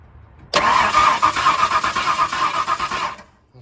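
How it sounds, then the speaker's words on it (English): A 1964 Ford F100 truck engine cranks and catches, a sudden loud start after a quiet moment, then a few seconds of rough pulsing running before it cuts out. "Jump in, pump the gas twice, and start it."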